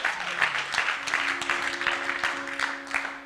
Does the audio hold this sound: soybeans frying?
no